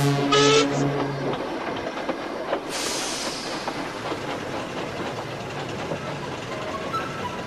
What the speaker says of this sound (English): they really rocketed and sprocketed out of the train station